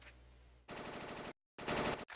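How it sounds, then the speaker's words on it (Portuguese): Rapid automatic gunfire from the video game Final Fantasy VIII Remastered, two loud sustained bursts of dense rattling shots separated by a brief silent gap, with a quieter ambient lead-in before the first burst. "O que é aquilo? Tiros? Parece bem ruim."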